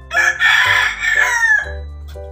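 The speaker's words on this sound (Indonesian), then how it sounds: "Itu ayam" Rooster crowing close by on a small backyard farm, one loud drawn-out cock-a-doodle-doo with a strained, falling tail, alone with no talk.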